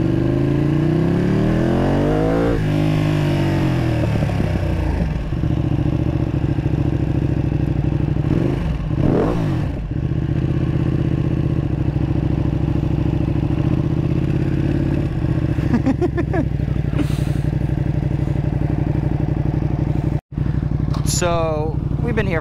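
Motorcycles and cars making hot laps around a block at a Royal Oak bike night, loud close engine roar throughout with several passing revs and accelerations sweeping by, and voices talking over the noise.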